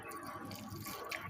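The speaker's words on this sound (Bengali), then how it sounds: "তো আমি পানি দিয়ে নিচ্ছি।" Water trickles and drips softly into a pot of bitter gourd and potato curry, a quiet continuous pour with no voices.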